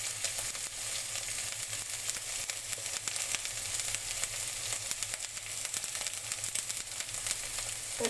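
Ground spices frying in hot oil give a steady, close crackling sizzle with no talk, unbroken from start to end.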